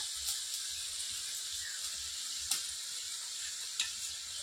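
Dried red chili paste hits a hot pan over a wood fire and sizzles steadily and quietly, with a few sharp crackles and a faint stir partway through.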